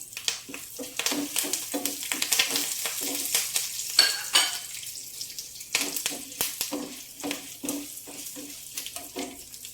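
Curry leaves crackling in hot tempering oil for a bottle gourd dish, irregular bursts of sizzle and spatter with stirring noises, close and moderately loud.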